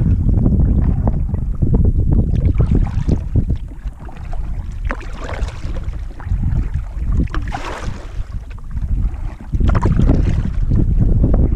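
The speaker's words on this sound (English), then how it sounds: "Oh, the wind coming off here." Strong wind gusts buffet the microphone while canoeing on Waldo Lake, Oregon, a continuous roaring rush with surging swells and faint water splashes, with no talking.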